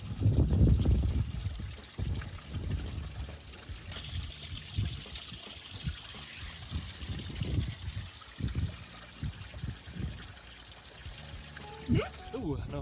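A small stream trickles and splashes steadily on a hike in Gran Canaria, a close continuous watery wash with scattered louder gurgles throughout.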